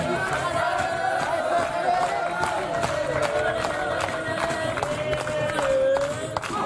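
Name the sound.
crowd noise at table tennis match venue in Rouen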